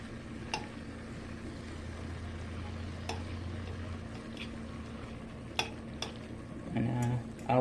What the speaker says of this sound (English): I'll stir it up a little bit more